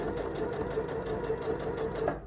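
A Janome 230DC sewing machine stitching thick fabric at a longer stitch length, giving a steady, close, rapid mechanical whir with a fast rhythmic needle beat, heard on its own.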